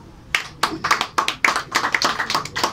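A church congregation claps in acclaim of the Lord, a lively burst of many hands striking in quick irregular rhythm, close and fairly loud, with no voices over it.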